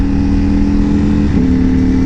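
A Ducati Panigale V4 motorcycle engine cruises at low RPM with barely any throttle, giving a loud, steady, deep drone that holds an even pitch, with only a slight shift partway through and no talk over it.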